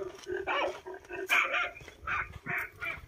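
A dog barks repeatedly at a farm with a solar-powered water pump, several loud, close barks in quick bursts with short pauses between them.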